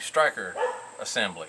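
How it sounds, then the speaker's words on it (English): A dog barks several times outdoors on a back porch beside a workbench, sharp yips mixed in and close to the mic, overlapping someone talking about pistol parts. "so you might hear my dog in the background"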